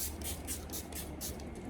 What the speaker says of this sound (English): I'll just spray the face